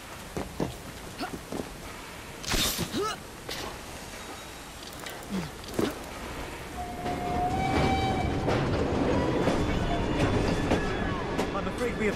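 A steam-era train runs in Assassin's Creed near Southwark Station, its rumble and clatter swelling and then staying loud and continuous, with a short horn-like tone partway through, after a stretch of scattered effects and voices.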